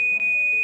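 An electronic alarm sounds in the visual novel game Charade Maniacs, a sustained high-pitched steady beeping tone that is loud and continuous over a short moment.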